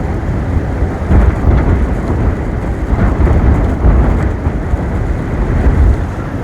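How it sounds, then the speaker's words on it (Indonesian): Strong gusty wind buffets the microphone on a slope of Mount Prau near Kejajar, Wonosobo, a loud continuous low roar that swells and eases in waves with no voices over it. "Angin kencang teman-teman ya."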